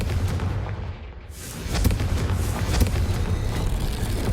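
A Confringo fire spell in the video game Hogwarts Legacy bursts with a loud, rumbling blast, followed by sustained crackling and booming explosion noise that fills the scene.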